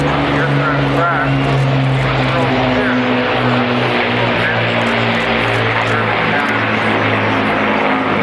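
A Lancaster bomber, a four-engine propeller aircraft, flies at an airshow with a loud, continuous engine drone and propeller hum holding steady throughout.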